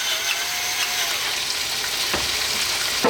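Lamb sizzles steadily in a pan over medium heat, a continuous dense frying hiss with a few brief stirring scrapes near the end, no voices.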